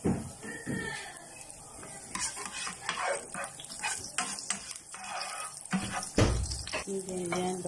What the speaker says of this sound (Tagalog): So, mainit na yung ating kawali. Ilalagay ko itong ating sibuyas.